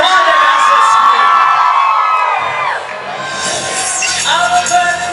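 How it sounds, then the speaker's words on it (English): A crowd at a DECA concert performance in Louisville screams and cheers loudly, whoops and shouts rising and holding throughout, with a singer's held vocal line ringing over it at first. "Now scream. Come on, everybody, scream."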